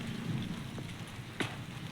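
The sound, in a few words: light rain drops starting to fall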